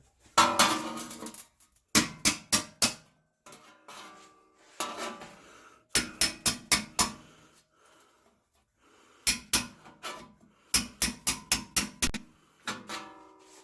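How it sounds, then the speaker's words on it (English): A hammer strikes a chisel on metal while removing spot welds from a seal channel, in repeated quick bursts of sharp clanks, four or five hits at a time, with pauses between the rounds, loud and close. "First time I hit this with the hammer, the camera falls over."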